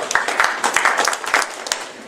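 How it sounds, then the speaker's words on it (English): A magic show audience claps for a volunteer, a short burst of live applause from a modest crowd with individual claps distinct, steady and moderately loud throughout. "You can applaud him?"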